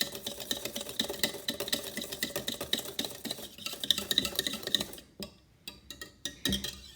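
A whisk beats a thick vanilla ice cream mixture in a bowl with rapid, even clicking strokes for several seconds, then slows to a few scattered taps before stopping.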